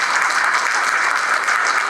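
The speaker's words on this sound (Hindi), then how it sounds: "कालिम्पोंग के लोग जोरदार तालियां सभी के लिए।" Steady applause from a crowd, dense and loud, clapping continuously without a break.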